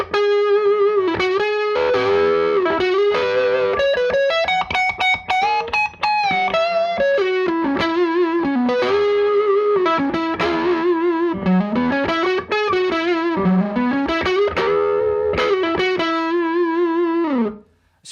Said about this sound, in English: So most of the tones you've heard so far have been on this Les Paul